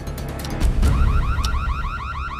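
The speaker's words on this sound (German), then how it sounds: "Das Kappen des Drahtes hat einen Alarm ausgelöst" Electronic alarm set off by cutting the main wire of a car bomb: a loud, rapidly warbling siren tone repeating in quick cycles, preceded by a brief burst of clatter, with no talking.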